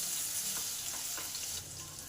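Potatoes fry in a little oil, a soft, steady sizzling hiss with faint crackles and light stirring scrapes, close and alone.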